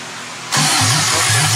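An 18RG engine in a 1972 Toyota Celica cranks loudly right up close, its starter churning in a steady rhythmic whirr that kicks in abruptly after a brief quiet moment.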